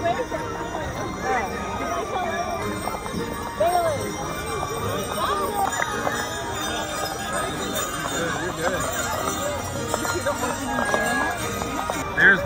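Horse hooves clip-clop steadily on pavement at a Christmas parade in Bedford, Virginia, amid outdoor crowd chatter and distant bell-like tones.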